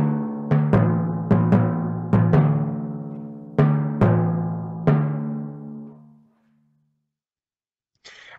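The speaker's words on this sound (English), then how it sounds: "some percussion instruments like the drums and the large timpani drums" Drums and large timpani strike a series of loud, booming hits with ringing decays, spaced irregularly, then die away into near silence before a faint sound at the end.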